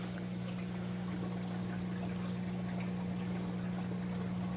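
Water runs steadily from a Fluval hang-on-back aquarium filter, a continuous even trickle and rush over a low, steady hum, with no voices and no change in level.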